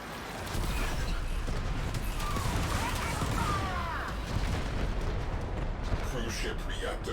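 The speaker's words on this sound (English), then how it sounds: "Cruise ship reactor has detonated" A cruise ship reactor detonates in Warframe with a long rumbling explosion and crackling blasts, followed by mechanical clatter, while someone talks over it.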